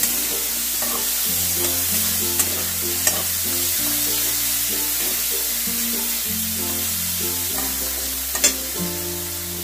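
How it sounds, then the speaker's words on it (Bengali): Chopped onion stirred and frying in oil in a home kitchen pan, a steady close sizzle with occasional scraping stir clicks over a constant low hum, and no talking. "পেঁয়াজ কুচিটাকে একটুখানি আমি ভেজে নেব"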